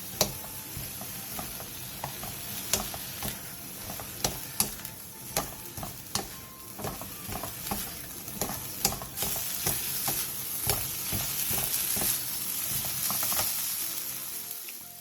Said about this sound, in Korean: 구워놓은 가지와 굴소스 반스푼을 넣고 고기를 마저 익혀주세요.